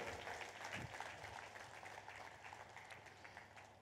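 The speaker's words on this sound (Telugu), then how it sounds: "గట్టిగా చప్పట్లు కొడదాం" An indoor audience at a spiritual gathering claps steadily, a dense sustained patter of many hands that swells early and then holds at a moderate, slightly distant level.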